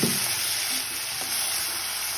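A hot pan of boal fish pieces frying with eggplant and potato in fried spice masala sizzles steadily after a splash of water, a bright continuous hiss with a few soft stirring clinks, close and alone.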